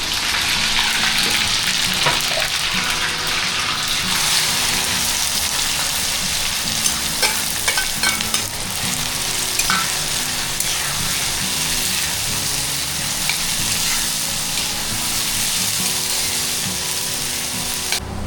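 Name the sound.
onions frying in oil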